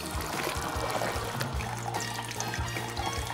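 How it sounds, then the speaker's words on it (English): Water from a bottle runs through a filter gadget into a glass, a steady close-up pouring stream with gurgling trickles throughout, no voices. "Pour it into the glass."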